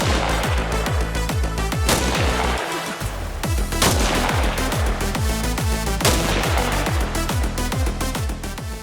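Sharpshooter rifle fire in the video game Arma Reforger cracks out in a rapid, evenly spaced series of sharp shots, loud and close, with a brief gap near the start and echoing tails between reports.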